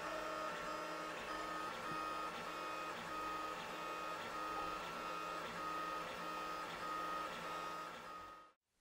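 A 3D printer laying down the top surface over support material, giving a steady close mechanical whirr with repeating high stepper-motor tones and a faint rhythmic pulse, running continuously with no talk until it cuts off abruptly at the end.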